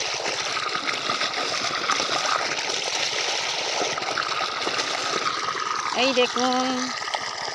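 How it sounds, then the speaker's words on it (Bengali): A pump draws in muddy water with a steady, rushing, gurgling flow throughout, close by, while someone speaks briefly over it near the end. "ছেঁচা হচ্ছে, ছেঁচা পাঁক জল নিচ্ছে"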